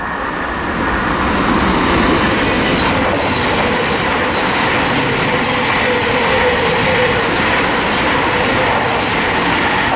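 Class 700 train passing through Luton Airport Parkway station on the Midland Main Line, a loud continuous rumble and wheel roar with some high squeal held steady throughout, close to the track.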